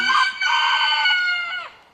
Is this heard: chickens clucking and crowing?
yes